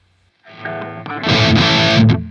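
An electric guitar played through a Hughes & Kettner Spirit Nano amp with a mid-heavy, distorted tone rings out in a quick riff, a few picked notes building into a loud, sustained saturated chord.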